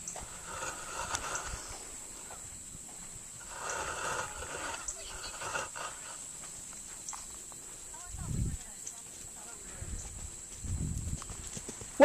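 Horse hooves clip-clop in an arena during a riding lesson, a few dull thuds near the end under steady background hiss, while an instructor talks at intervals.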